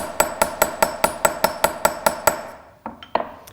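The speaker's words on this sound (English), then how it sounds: "You take the ball peen part of the hammer and just hit it in a daisy shape" A ball peen hammer striking metal to mark a daisy pattern, about a dozen bright, ringing taps in an even, quick rhythm, then a pause and a few scattered final strikes, close and with no talk.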